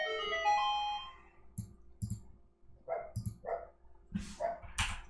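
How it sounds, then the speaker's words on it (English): A dog barks in the background indoors during a home electronics workbench session, giving a few short, separated barks at moderate level with a quieter stretch between them. "my dog barking in the background"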